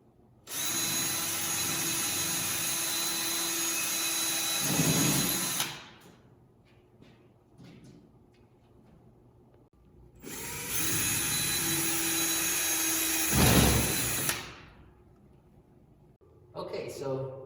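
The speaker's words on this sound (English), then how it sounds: "I'm going to get started drilling a couple of pilot holes" Power drill boring pilot holes through pegboard for a homemade Kobalt tool chest board: two sustained, loud whirring bursts of about five and four seconds, each ending with a rising strain, separated by quiet handling noise, close up.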